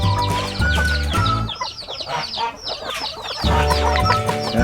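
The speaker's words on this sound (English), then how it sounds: "I hear a lot of chirping going on down here." Aseel chickens in a pen cluck and chirp busily, with overlapping calls from several birds over a steady low hum.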